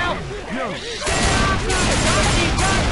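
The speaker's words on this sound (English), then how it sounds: "I am shooting it" Rapid bursts of gunfire from the zombie shooter Left 4 Dead 2, a dense, loud crackling volley that swells after a brief lull, with a player's voice talking over it.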